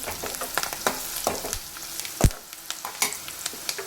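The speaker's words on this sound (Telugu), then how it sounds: "ఈ పసుపు కూడా మంచిగా కలుపుకోవాలి ఆయిల్లో ఒక హాఫ్ మినిట్" Turmeric is stirred into hot oil in a pan for tomato curry, giving a continuous frying sizzle with repeated scraping strokes and one louder knock midway, close and without voices.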